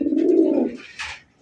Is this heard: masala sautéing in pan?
no